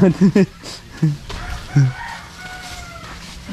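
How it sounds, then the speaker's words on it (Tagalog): A fighting rooster crows loudly nearby in a few sharp bursts, followed by quieter background noise and faint distant tones. "Lalaki ng manok oh."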